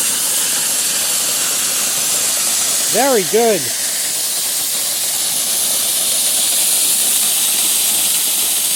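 Compressed air hisses and sputters loudly out of inground sprinkler heads in a backyard during a winterizing blowout, a steady roaring spray throughout with a brief pulsing burst midway and a short spoken remark.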